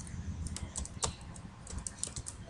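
Typing HTML code on a computer keyboard, a quick irregular run of close, crisp key clicks and clacks with brief pauses between bursts, heard alone without talk.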